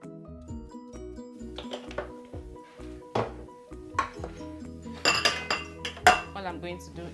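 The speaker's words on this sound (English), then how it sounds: "All I'm going to do is divide the cake batter into equal parts into the pan." Utensils clink and scrape against metal baking pans as vanilla cake batter is divided between them, with a series of sharp, close taps and knocks growing louder toward the end.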